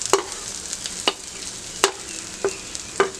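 Ground masala paste stirred into browned onions frying in hot oil over a high gas flame for a chicken gravy, with a steady soft sizzle broken by several sharp spoon scrapes against the pan.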